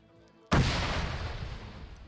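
Artillery or mortar fire in the video game Arma 3: a single sudden loud blast that erupts and then rolls off in a long decaying rumble, close and heavy, with no talk.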